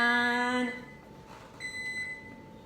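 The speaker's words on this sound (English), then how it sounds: "oven has to beep it, y'all, every time I try to make a video" A kitchen oven sounds its electronic beeper: a loud sustained tone that fades, then a quieter, higher steady beep, with no talking.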